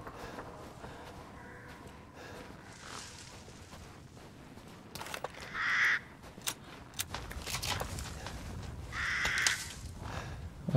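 Crows caw in the eerie outdoor setting of Resident Evil Village, a few harsh calls around the middle and near the end over low game ambience, with footstep-like sounds.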